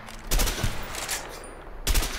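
Machine gun fire in the prison-escape video game A Way Out: two loud bursts of rapid shots, the first running about a second and the second starting near the end, with no talk.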